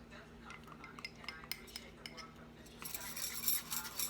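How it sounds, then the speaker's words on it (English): A utensil works through a thick, stiff mixture, with scattered clinks and scrapes against the bowl followed by a denser, louder stretch of rapid stirring noise near the end. "It's going to be really hard to stir it first, but you'll get it going."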